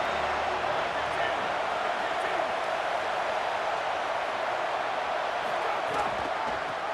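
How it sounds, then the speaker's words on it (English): Dense, steady roar of a large crowd at a college football game between Oregon and USC, a constant wash of voices and cheering with no breaks, loud and continuous throughout. "This crowd ready to make its presence known."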